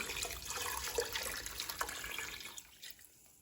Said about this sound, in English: we're gonna add our equal parts of water